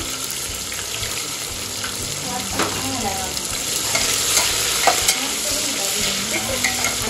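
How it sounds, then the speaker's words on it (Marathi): Onions fry in hot oil for chicken biryani, a dense continuous sizzle with occasional stirring clatters growing slightly louder toward the end, close and without speech. "यामध्ये मी कांदा टाकते. आता कांदा चांगला लाल करून घ्यायचा आपल्याला"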